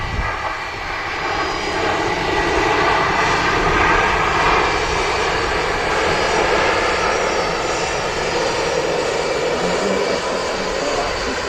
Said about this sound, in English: We've also got a Jet2 757 on the taxi.